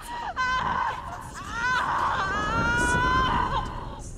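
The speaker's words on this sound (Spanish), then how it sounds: "Sus gritos." A female character cries out in Hellblade: Senua's Sacrifice, two drawn-out, wavering screams close up, one short and one long, with a brief breath between them.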